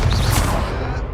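A fire spell cast in the video game Hogwarts Legacy, a loud, dense burst of whooshing, crackling game effects that fills about one second at steady strength.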